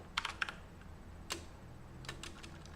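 Keystrokes on a computer keyboard, a few quick clusters of clicks near the start, then isolated taps, close and fairly quiet against a low room hum.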